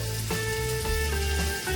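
Tomato and onion frying in a pan for an ol and potato curry, a steady close sizzle running unbroken throughout with no talk over it.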